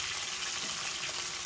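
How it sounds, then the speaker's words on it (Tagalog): Steady, dense crackling and hissing of tilapia frying in hot oil, close and continuous with no pauses. "Prito tayo tilapia."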